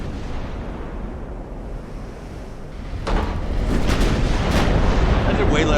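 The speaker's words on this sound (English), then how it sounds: "16-inch HE shells coming in on probably thinly armored ship." 16-inch high-explosive shells striking a thinly armored ship in Ultimate Admiral: Dreadnoughts, heard as a rumbling roar that bursts into loud, crackling impacts midway and keeps booming to the end.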